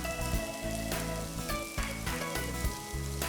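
Ingredients for mango semia pulihora fry in a hot pan with a loud, dense sizzle and crackle, close up, swelling and easing as they are stirred, with some faint background tones and no speech.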